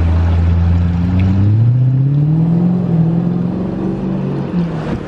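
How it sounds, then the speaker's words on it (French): McLaren engine revving loudly and close, a strong low drone rising in pitch then holding and easing off slightly, with no voices over it. "Il fait du bruit le ML là"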